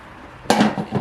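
A lid set onto an electric roaster full of caramelizing onions: one bright metallic clank, then a short rattle as it settles, close and clear with no speech.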